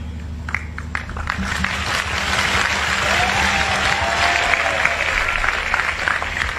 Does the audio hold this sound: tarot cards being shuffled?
no